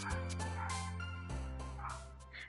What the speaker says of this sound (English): I'm muted because the dogs are getting really loud